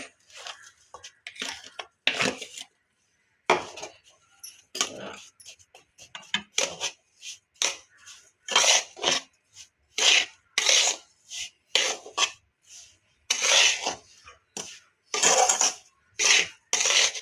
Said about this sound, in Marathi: आता यातच आपण ही पिठी साखर मिक्स करून घेणार आहोत